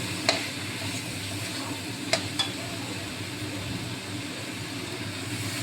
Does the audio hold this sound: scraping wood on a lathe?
no